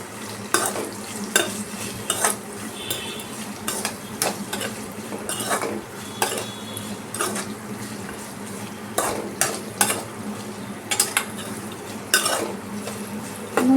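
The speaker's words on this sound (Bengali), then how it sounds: "একটু নাড়িয়ে নিলাম" Beetroot poriyal with salt being stirred in a pan, repeated sharp spatula scrapes and clinks against the metal over a steady low sizzle, loud and close, with no voices.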